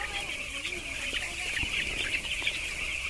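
Poultry-farm chicks peep and cluck in a steady, dense chorus of high chirps, with a low hum and soft clucks beneath and a voice briefly audible.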